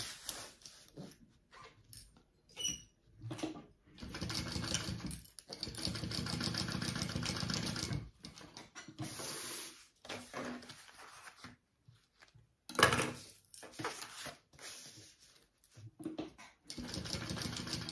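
A sewing machine basting quilted fabric pieces together runs in short bursts of rapid stitching, close and moderately loud, separated by pauses and small handling noises.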